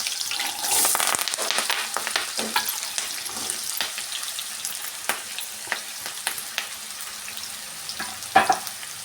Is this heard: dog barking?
no